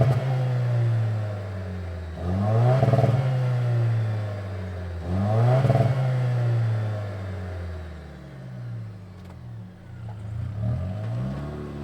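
A 2024 Toyota Tacoma TRD Pro hybrid engine starts and revs, a close, loud rumble with two strong rev surges before settling toward a lower idle.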